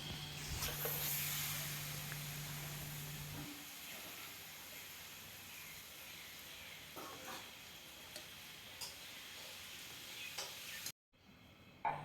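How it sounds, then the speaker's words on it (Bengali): Gokul pitha dumplings dipped in batter deep-frying in oil, a soft continuous sizzle and hiss at low level with occasional small clatters, a steady hum in the opening seconds and a brief dropout near the end. "এই যে গোকুল পিঠেগুলো তেলের মধ্যে দিয়ে দিচ্ছে তো এবার প্রথমে এটাকে আটার মধ্যে চুবিয়ে এটা তেলে দিচ্ছে"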